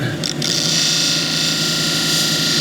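Tiger eye cabochons are polished at 1200 grit on a machine, giving a steady close whirring hum with a continuous gritty rubbing hiss and no talk.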